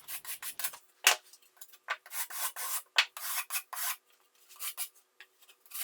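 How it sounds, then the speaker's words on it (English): A plasterboard rasp scrapes along cut plasterboard edges in quick repeated strokes, close and fairly quiet, with short pauses between the bursts of rough filing. "smooth my cut edges with a plasterboard rasp"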